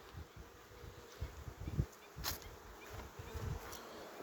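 A few bees buzz around an opened hive during an early-morning honey harvest, with the supers already removed. The buzzing comes and goes in short close passes and stays fairly faint against a quiet background.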